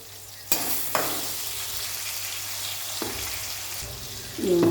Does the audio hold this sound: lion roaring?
no